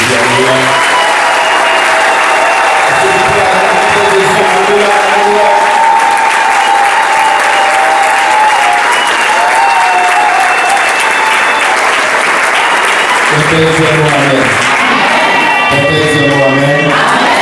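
A church congregation applauds loudly and continuously for a long stretch, dense sustained clapping with voices calling and singing over it.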